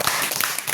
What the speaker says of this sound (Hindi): तो जानकारी अगर अच्छी लगी हो तो आप लोग ताली बजा सकते हैं